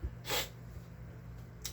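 A person blowing their nose, one short loud honking blast followed by a brief second puff, close up with fans humming in the background.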